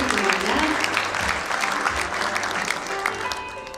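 An audience at an awards ceremony for records and documentation applauds a judge being introduced, dense, steady clapping filling the hall, with a faint voice underneath.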